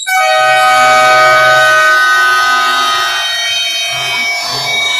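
A loud, sustained electronic buzzer sounds at an outdoor barangay summer league basketball game to end the third quarter, blaring for several seconds and dominating over faint crowd noise.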